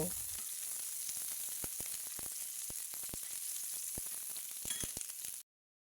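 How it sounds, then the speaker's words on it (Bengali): Chopped onions and green chilies fry in soybean oil in a pan, giving a loud, steady, crackling sizzle throughout with a few sharp pops, ending abruptly. "তারপরে পেঁয়াজ দিলাম কাঁচামরিচ দিলাম এগুলো লাল লাল করে ভেজে নেব"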